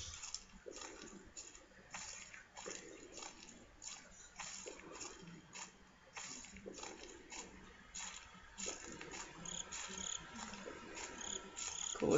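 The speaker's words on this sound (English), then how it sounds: "Crickets, you are not making this any easier." Crickets chirp steadily in the horror video game Slender, a dense insect trill that is moderately loud and continuous, with faint rustling underneath.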